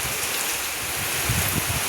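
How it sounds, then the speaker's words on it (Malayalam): Heavy rain pours steadily with wind in the monsoon season at a Kerala family home, a dense, continuous roar close by with no pauses. "നല്ല മഴ, കാറ്റ്."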